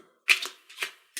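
Playing cards handled in a magic routine are shuffled and run off the deck, giving three brief papery riffling bursts separated by short pauses, close and fairly quiet with no talking.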